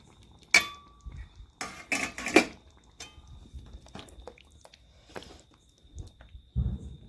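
Pav bhaji being stirred together with masala in a pan: sporadic metallic scrapes and clinks of a spoon against the pan mixed with soft, thick squelching, close and moderate, with no talking.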